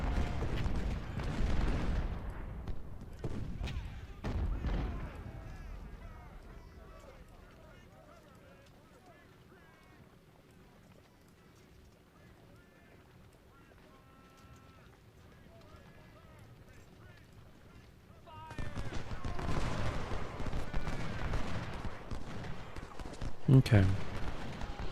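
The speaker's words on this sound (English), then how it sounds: "Oh, that artillery is so brutal." Artillery fire in the Civil War strategy game Ultimate General: Civil War, with booming cannon blasts and battle noise at the start, a quieter stretch in the middle, then heavy rumbling fire again near the end.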